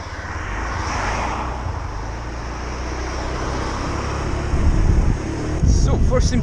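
A Honda PCX 125 scooter is ridden along a road at about 30 km/h, giving a steady engine drone and rushing wind noise that swell briefly near the end, with some talk.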